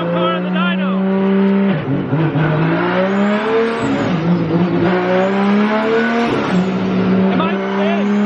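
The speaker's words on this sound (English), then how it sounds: "I've never gotten to hear my own car on the dyno." A 900 hp Nissan S15 screams on a dyno, its engine holding steady high revs with sharp pitch dips and climbs as it shifts, loud and close throughout.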